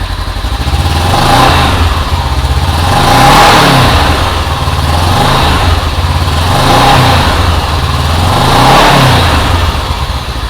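Kawasaki KRX UTV fitted with a Kraftwerks supercharger, its engine revved loudly several times in slow swells with a supercharger whine riding over the steady engine drone, no voices.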